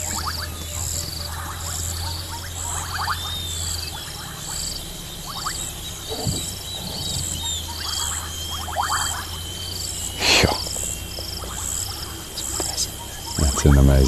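Frogs calling at night during an evening safari in the African bush, a dense, steady chorus of rhythmic trills and peeps mixed with insect buzzing, with brief rustles and soft voices in the background.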